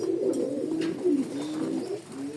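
A Rasgolla-breed pigeon coos close by in a low, steady, throaty warble, the soft rolling call repeating through the short clip, with faint background chatter and no clear speech.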